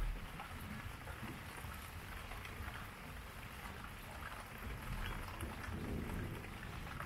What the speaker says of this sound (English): It starts pissing down with rain.